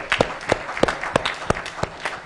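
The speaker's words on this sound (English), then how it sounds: "Let me hear your applause." Conference audience applause, a small group clapping in uneven, distinct claps that stand out clearly, close and moderately loud.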